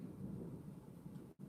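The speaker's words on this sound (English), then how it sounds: "Oh shit, it's raining." Rain and thunder make a low, steady rumble with a soft hiss, faint and continuous, ending with a brief cutout.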